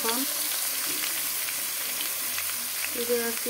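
Potatoes sizzle steadily in hot oil in a wok, a constant broadband frying hiss with brief stirring scrapes, close and fairly loud, with a voice briefly heard in the background.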